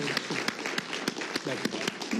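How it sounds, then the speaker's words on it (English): A small audience at a Voice of America office gathering claps, scattered distinct handclaps sounding in an uneven rhythm while someone speaks over them. "Please join me in a round of applause."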